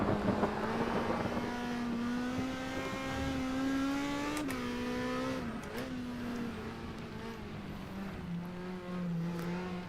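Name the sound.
Osella race car engine at Nurburgring in video game NetKar Pro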